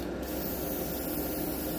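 A hobby airbrush sprays paint in a short, continuous hiss of even intensity, close and alone, with no voices.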